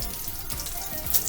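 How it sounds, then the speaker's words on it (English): Chicken cutlets fry in a pan of oil, a faint, steady sizzle and crackle running through the short stretch with no voices. "Almost done frying chicken cutlets."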